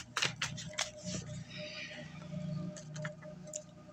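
Tarot cards are shuffled by hand in a quiet room, giving soft, irregular riffling and tapping bursts at close range.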